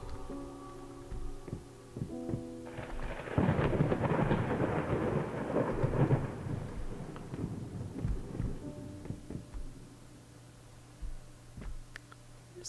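A long low rumble of thunder rolls through steady rain in the video game Layers of Fear, swelling for several seconds and then fading back into a soft, continuous patter.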